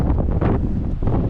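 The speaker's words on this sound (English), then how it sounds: "it's still windy out here." Gusty wind buffets the microphone in loud, low rumbling bursts at Hurricane Point on the Pacific Coast Highway in Big Sur, with no voices present.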